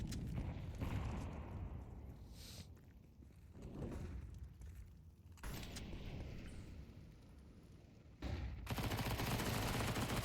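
Rapid SMG fire and scattered shots sound during a competitive Counter-Strike esports match. The bursts are quick and rattling, mixed with footsteps and game ambience, and the whole mix is fairly faint.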